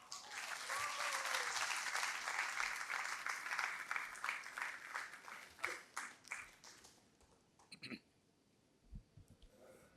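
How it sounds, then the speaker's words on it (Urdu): An audience applauds at the Aalmi Urdu Conference at the Arts Council, with dense, steady clapping that tapers off after about six seconds, leaving a few scattered claps and faint room noise. "آپ کی بہت ساری تالیاں"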